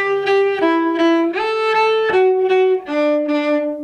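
A cello plays a short phrase with harmonics in smooth, sustained bowed notes, about six in a row shifting pitch with slight attacks, close and solo with no talk.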